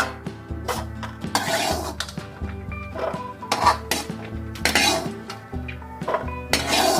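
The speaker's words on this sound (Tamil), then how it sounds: "அந்த வறுத்த முந்திரியை வந்து பாத்திரத்தில் எடுத்து வச்சுக்கிறோம்" Roasted cashews being scooped from a pan into a metal vessel for a milk kesari sweet, giving repeated close metallic clinks and scrapes of spoon against pot, irregular bursts with brief pauses.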